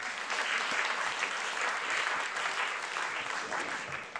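Continuous round of applause from an audience at a talk in the Malibu Library speaker series, dense and even, easing slightly near the end.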